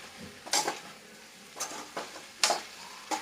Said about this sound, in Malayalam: വേപ്പില എനിക്ക് ഇട്ട് കൊടുക്കാം